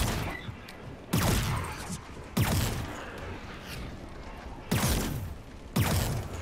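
Weapon fire in the video game Far Cry 5 Lost On Mars, four loud separate blasts spaced a second or more apart, each with a booming low tail, over steady game ambience.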